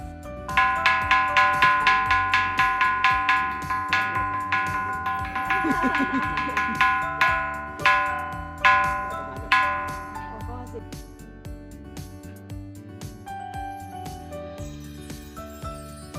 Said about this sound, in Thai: จะมีหินอยู่ก้อนหนึ่งที่เมื่อเรานำไม้ไปเคาะ จะเกิดเสียงดังเหมือนระฆัง